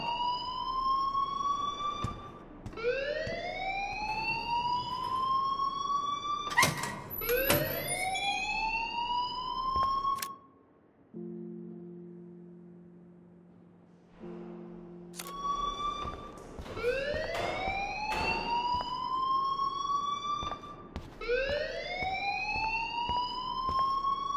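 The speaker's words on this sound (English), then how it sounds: "please turn off that alarm since that's your job" Alarm ringing in the Life Is Strange video game, a loud repeating rising electronic whoop that cycles steadily, drops out briefly for a low buzzing tone, then resumes.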